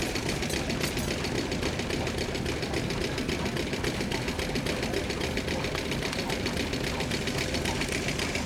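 A row of old tractors runs at the Great Dorset Steam Fair in 2013, their engines knocking and chugging in a steady, dense, mid-loud rhythm with no break.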